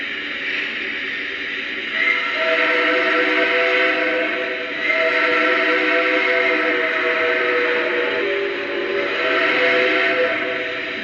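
Nickel Plate 765 Berkshire steam whistle from a Lionel model locomotive: a continuous, breathy chime-like wail with slight dips in strength, loud and close throughout, no speech.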